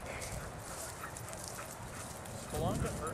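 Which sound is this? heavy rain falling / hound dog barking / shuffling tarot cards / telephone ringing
hound dog barking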